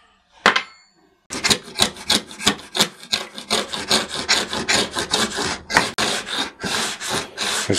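A homemade router plane with a chisel blade cuts into a wooden board in a steady series of close, rasping strokes, each a short scraping rush, after a brief knock and a pause.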